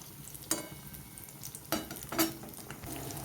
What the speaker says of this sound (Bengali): বাকিগুলো একই রকমভাবে ভেজে নেব